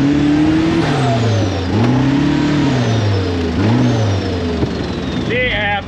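Polaris RZR Pro R side-by-side fitted with a used aftermarket turbo, revving hard at wide open throttle in repeated rising and falling sweeps, loud and close, with people talking over it.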